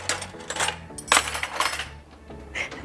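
Metal spoons clink and rattle against each other in quick, irregular bursts as someone rummages through a collection of them, close by.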